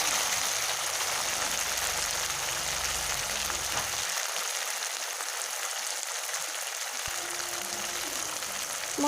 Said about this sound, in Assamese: এতিয়া গোটেইখিনি মিশ্ৰণ অলপ সময় ভাজি থাকিব লাগিব।